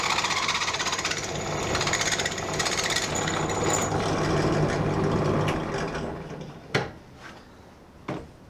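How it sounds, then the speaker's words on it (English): A drill bores out the threaded side of a soft aluminium part held in a vise on a 1978 cafe scrambler rebuild, giving a loud sustained grinding whir that stops partway, followed by a couple of sharp knocks. "going to start by drilling out the threaded side because I want to rethread the same side"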